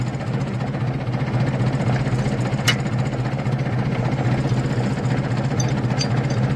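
A tractor pulling a plough through a field to prepare it for paddy planting, its engine a steady, loud, close low rumble throughout with no pauses.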